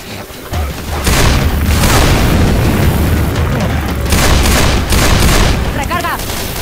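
Rapid gunfire and booming shots from the zombie game Left 4 Dead 2, loud and dense throughout, layered over heavy low rumble, with a brief chirping effect near the end.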